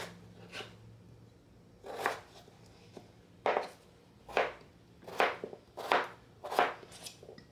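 Vegetables being worked with a peeler in a home kitchen, giving a series of short, crisp scraping strokes, spaced irregularly at first and then coming in quicker bursts, close and fairly quiet.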